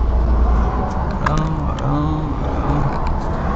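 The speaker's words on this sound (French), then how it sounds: "je suis dans la voiture de location" Steady low rumble of a rental car's engine and road noise heard from inside the cabin, with a faint murmuring voice and light movement sounds over the continuous drone.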